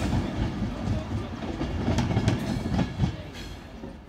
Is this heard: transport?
yes